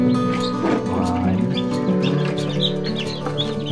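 A mother hen clucks among chicks hatched in an incubator, with low, continuous clucking and soft chick peeps close by under steady barnyard noise.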